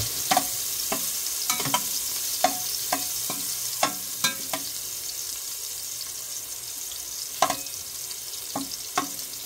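Garlic sautéing in a pan for callos: a low, steady sizzle runs under a series of sharp clinks and scrapes from a utensil stirring against the pan at an uneven pace, all close by, with no talking.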